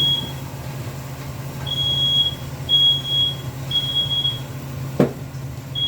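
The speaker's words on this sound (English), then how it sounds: "the smoke alarm has finally stopped." A smoke alarm in a home kitchen, set off while steak sears in a pan, gives repeated short high-pitched electronic beeps at a steady rhythm over a low hum of cooking and room noise, with one sharp clatter near the end.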